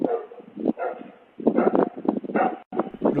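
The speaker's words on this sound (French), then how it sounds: "les chiens de John Jones ont commencé à aboyer." Several dogs barking in quick, repeated bursts at a house during a nighttime break-in, loud and close, with the barks overlapping and briefly pausing before starting again.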